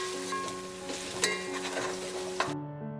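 Ground ginger-garlic paste and green chillies fry in a pan over a high flame for Ankapur country chicken curry: a steady, close, loud sizzle with scraping stirs and two sharper clinks, stopping abruptly near the end.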